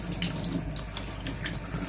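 Tap water running steadily into a sink as cabbage leaves are rinsed, a continuous close splashing hiss with small irregular spatters throughout.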